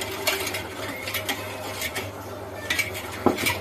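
A spoon stirs sugar into homemade almond milk, giving soft, close swishing with light clinks against the vessel and a sharper knock near the end, without speech.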